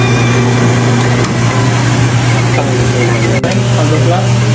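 Yamaha Nmax 195cc scooter engine with a tuned cam revving hard, a steady loud mechanical drone holding high throughout, close and continuous with a constant hum beneath.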